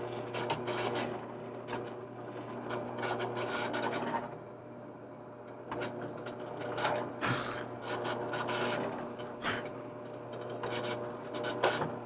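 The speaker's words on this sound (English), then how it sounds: "So I'm going to pre-drill the holes through our handle here and then transfer those holes to the axe head." A drill bores pilot holes through a wooden axe handle, coming in uneven bursts of grinding and whirring separated by short pauses, quiet and close with no talking.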